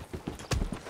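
Horse hooves clip-clop in a Spanish-language roleplay video game, several close, loud hoofbeats in a quick uneven rhythm over about a second with no talking.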